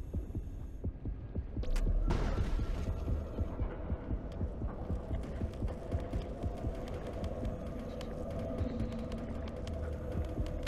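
A throbbing heartbeat pulses steadily under a low hum in the underwater shark game Depth, with regular dull beats continuing throughout and a brief louder swell near the start.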